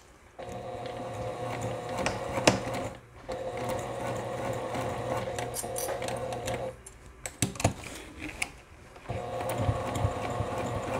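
A sewing machine stitches a square and an X through fanny pack lining, its rapid needle chatter running loud and close in bursts with a brief pause midway, no talking.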